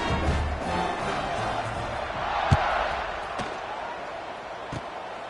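Video game crowd at an NFGL football kickoff, a broad steady roar of many voices swelling in the middle, with a few sharp thuds and knocks over it.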